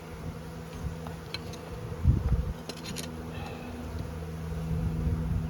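Honey bees hum in an opened hive holding honey, a pollen patty and starved bees, a steady close drone with a few soft knocks and handling bumps partway through.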